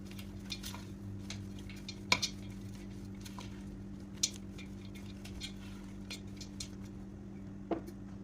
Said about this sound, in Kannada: ಈಗ ಎಲ್ಲವನ್ನು ಚೆನ್ನಾಗಿ ಮಿಕ್ಸ್ ಮಾಡ್ಕೊಳ್ಳೋಣ